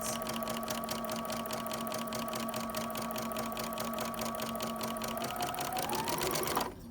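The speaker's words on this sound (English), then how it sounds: "I'm going to go faster so we can just finish the seam." A sewing machine running steadily through a French seam, its rapid needle stitching forming an even, continuous mechanical whir close by that speeds slightly and then stops abruptly near the end.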